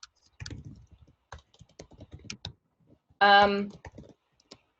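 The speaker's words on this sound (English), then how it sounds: "I'm gonna just start typing in some like basic stuff" Computer keyboard typing in short, quiet clicks scattered through the clip, with a brief louder tonal burst near the middle; no one speaks.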